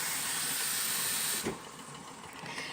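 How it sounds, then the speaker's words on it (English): A pot of Mexican rice boiling on medium heat, giving a steady broadband steamy hiss that holds for most of the stretch and then eases slightly, with a faint clunk partway through. "I'm going to let it boil on medium for about an hour"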